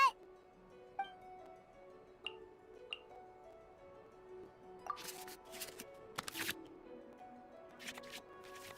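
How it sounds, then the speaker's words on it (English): Soft card shuffling and light clicking taps from the Genshin Impact card game, as cards are returned to the draw pile, with a few bright tick-like chimes and quiet rustling bursts over a faint steady tone. "we can select any number of cards in our hand to shuffle back into the draw pile, and then draw the same number of new cards"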